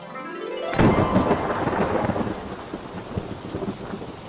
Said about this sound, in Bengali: ওহ, কাল থেকে কি বৃষ্টি হচ্ছে রে বাবা,